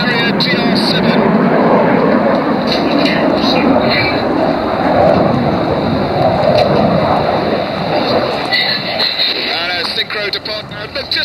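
Red Arrows jets fly an aerobatic display at the Goodwood Festival of Speed, a loud continuous roar and rushing engine noise with wind buffeting, heard beneath a commentator's steady speech throughout.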